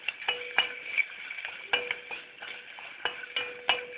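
A spoon scrapes and taps around a pot while salt is mixed into cooked rice, making soft, irregular clinks and scrapes close by and fairly quiet.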